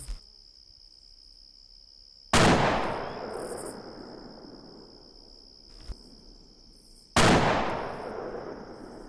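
Two loud, sharp sniper rifle shots from Half-Life 2, each with a long decaying echo, spaced about five seconds apart, with a faint click between them over a steady high insect-like hum.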